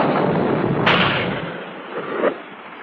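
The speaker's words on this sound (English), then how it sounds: "That's cannon fire." A cannon fires from a fort in a classic cartoon, one broad booming blast followed by a second, quieter burst as the rumble fades.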